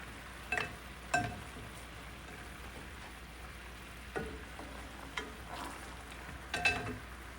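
Salmon fillets go back into a skillet of thickening cream sauce with sun-dried tomatoes and cannellini beans, giving a quiet low sizzle broken by a few soft clattering stirs and placements.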